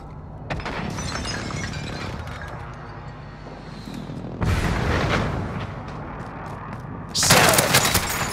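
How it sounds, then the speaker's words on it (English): Enemy precision airstrike in a video game: a series of heavy, rumbling blasts with crackling debris, a sustained roaring barrage, then a sharp bright shattering explosion near the end. "Enemy precision airstrike"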